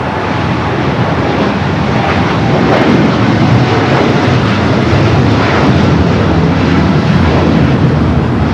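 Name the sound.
American Airlines Dreamliner taking off at LAX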